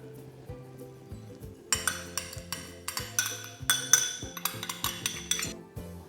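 Eggs and sugar are mixed in a bowl for molten chocolate lava cake, with close, repeated clinks and scrapes of a utensil against the bowl, quiet at first and then a busier run of rhythmic strokes.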